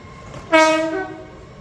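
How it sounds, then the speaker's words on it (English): An Avanti West Coast train departing Rugby station for London Euston on the West Coast Main Line sounds one loud, close horn blast lasting about half a second, then fades into low rumble. "departing now is going to be the Avanti West Coast service to London Euston"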